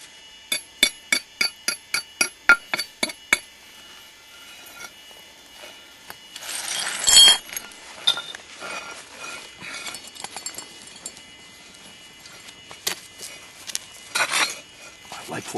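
Hammer strikes on a large basalt biface during field spalling in flintknapping: a quick series of about nine sharp, evenly spaced clacks, then scattered scraping and rubbing with a few louder knocks, close and clear.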